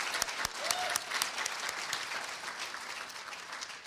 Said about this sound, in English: And yes, please give them a round of applause.